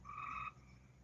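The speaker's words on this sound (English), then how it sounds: "You hear my frogs?" A single frog gives one short, clear croak, moderately close, followed by quiet outdoor ambience.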